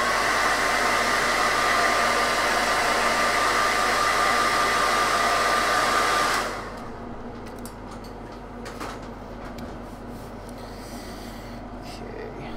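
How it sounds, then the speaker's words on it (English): A hair dryer blows steadily and loudly on a sculpted Darth Vader bust for about six seconds, then shuts off, leaving quiet room noise with faint handling. "Let's hit him with a hairdryer."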